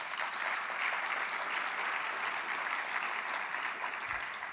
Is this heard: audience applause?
yes